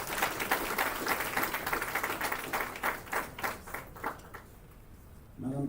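An audience at a university library event applauds, with dense steady clapping for several seconds that thins out near the end.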